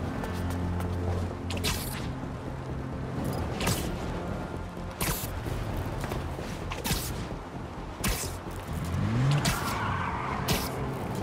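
A car skidding through reckless driving in Spider-Man 2, with repeated tire squeals, engine noise and sharp impact sounds over steady traffic and city ambience.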